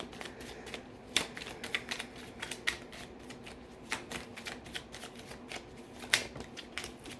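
Tarot cards are shuffled by hand, giving a run of quick, crisp riffling clicks and slaps in irregular bursts, close and fairly quiet, with no talk.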